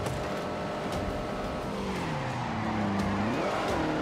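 A car in The Grand Tour Game video game skids under the e-brake, a rising tire squeal sliding over steady engine drone, fairly faint and continuous.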